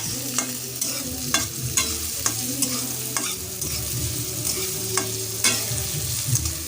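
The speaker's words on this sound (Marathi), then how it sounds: "कांदा आता मी परतून घेत आहे" Onion being sautéed in a pan for a ridge gourd dish, with a steady sizzle broken by regular scraping strokes of a spatula, close up and without any talking.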